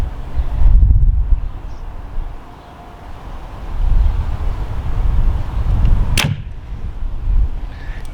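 A PSE XForce compound bow fires a 327-grain arrow with a sharp snap and a quick whoosh, then a distant thud, amid outdoor wind noise.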